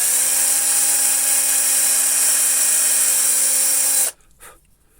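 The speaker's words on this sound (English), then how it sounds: "small drill bit and carefully drill holes through his eyes and the buttons." A small drill bit whines steadily and loudly as it bores through a wooden snowman decoration, then cuts off abruptly near the end, leaving brief faint handling noise.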